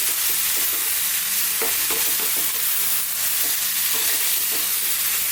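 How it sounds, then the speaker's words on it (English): Potato curry with turmeric, chili and coriander powder sizzles steadily in a pan over high heat while a utensil stirs it, giving rhythmic close scrapes and taps over the constant frying hiss, with no talking. "Give this a mix."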